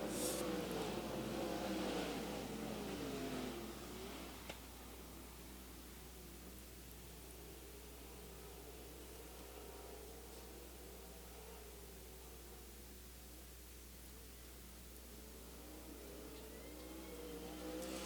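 Sprint car engines race around the dirt oval at Central Arizona Speedway in an ASCS main event, a continuous broad roar that swells louder at the start and end and stays steady between.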